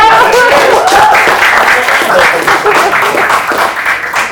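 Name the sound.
audience applause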